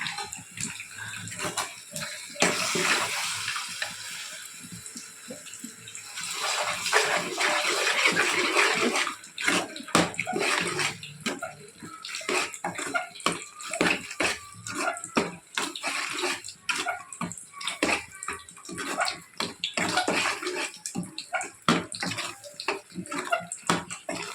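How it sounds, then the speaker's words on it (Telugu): Water pours steadily for a long stretch, a splashing, rushing flow with some clatter and fluctuation, fairly close and loud, with no voices. "కొంచెం వాటర్ వేసుకుంటాం"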